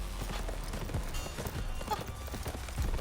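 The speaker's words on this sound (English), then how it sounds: "A horse is charging right at me. It's as fast as a car or even a train." Horse hooves pounding in a fast charging gallop in the video game The Final Route, a steady rumbling clatter of hoofbeats under a continuous backdrop.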